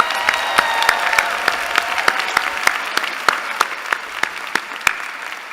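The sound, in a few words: audience applause for the student speakers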